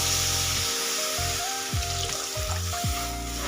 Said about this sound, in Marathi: त्यामध्ये आता पाणी घालून घेऊ.